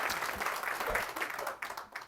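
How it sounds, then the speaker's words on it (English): A brief patter of applause rises from the audience at a school board of education meeting, moderately faint and uneven over about two seconds. "Round of applause."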